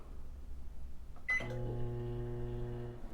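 A microwave oven starts up after a faint click and sharp beep, then settles into a steady low mechanical hum with a constant whirring drone as it cooks garlic, close and alone.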